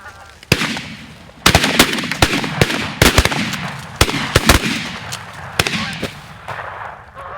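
Shotguns fire in a rapid, uneven volley as goose hunters shoot at incoming Canada geese over decoys. Sharp, loud blasts come close together, some nearly overlapping, with faint voices between shots.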